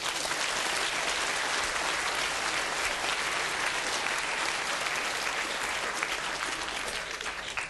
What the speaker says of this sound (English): Why don't you give yourselves a big round of applause?